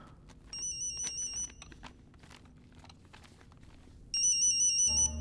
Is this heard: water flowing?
no